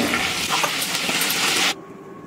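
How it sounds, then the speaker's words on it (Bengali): A bay leaf, dried chillies and whole peppercorns sizzle in hot oil while being stirred, a bright close hiss with scraping stirs that drops away sharply near the end. "এবার ফোড়নটাকে একটু নাড়াচাড়া করে নিচ্ছি তেলের মধ্যে"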